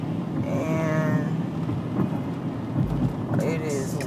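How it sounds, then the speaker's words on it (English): Rain falling during a storm in Houston, with a steady wash of rainfall, a low rumble of thunder partway through, and some faint tonal sounds over it. "It has been raining in Houston."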